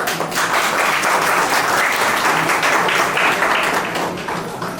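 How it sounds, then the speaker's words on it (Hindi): Loud, dense applause from an audience at an event at the Industrial Training Institute in Ranchi: many hands clapping in a steady roar that holds for several seconds, then eases slightly at the end. "जोरदार तालियां।"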